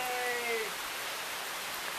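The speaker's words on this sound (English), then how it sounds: "We're in the rain." Heavy rain from a storm falls on a wooden deck in North Carolina, a dense, steady hiss of drops pattering close by. A brief high whistling tone fades out early on.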